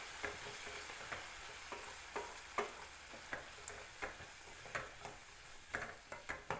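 Chili powder and salt frying in oil for manathakkali vatha kulambu, a soft continuous sizzle broken by regular spoon scrapes and taps against the pan, close and quiet, with no voices.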